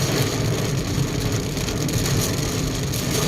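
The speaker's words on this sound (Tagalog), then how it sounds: "Grabe ang ulan." Heavy rain during a road trip, a dense, continuous hiss of downpour drumming on a vehicle, loud and close, with a low rumble underneath and no voices.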